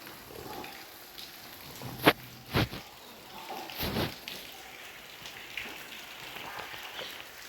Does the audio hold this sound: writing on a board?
no